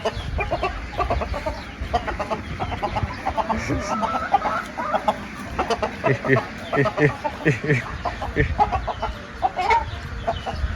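Chickens cluck repeatedly close by, a busy stream of short calls with a person talking intermittently over them.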